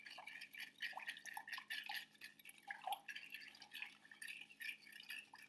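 A spoon stirs salt into water in a glass, producing faint, rapid clinks and light swishing taps against the glass in a steady, uneven rhythm.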